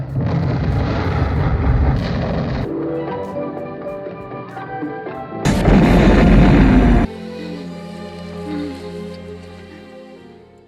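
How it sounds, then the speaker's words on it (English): An enemy base explodes in the James Bond film GoldenEye, with loud sustained rumbling blasts and a sharp surge of destruction midway, mixed with the film's score and no speech. "And like loads of James Bond films before, this film ends with an exploding enemy base and Bond hugging and kissing a glamorous gir"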